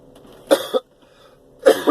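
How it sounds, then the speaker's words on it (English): Two distinct coughs, each a harsh double burst, separated by a short quiet pause, close and fairly loud. "we have a little cough from time to time"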